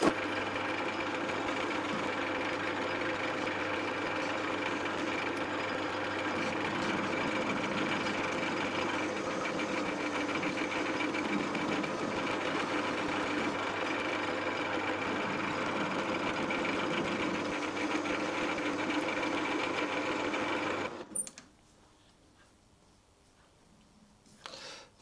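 A metal lathe takes a facing cut across the face of a steel turret for a rear tool post, running as a steady, continuous machining hum for about twenty seconds before stopping abruptly into near silence.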